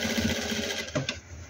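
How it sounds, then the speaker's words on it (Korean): A sewing machine hums steadily while stitching trousers during an alteration, close and fairly loud, fading out near the end. "미싱 박을 때도 미싱 박는 그 요령이 있어야 돼"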